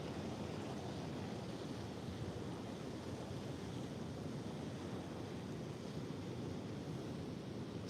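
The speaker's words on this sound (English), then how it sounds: "Here comes a big wave." Ocean waves break along the coast in a continuous, loud roar of surf, mixed with heavy wind buffeting the microphone and no voices.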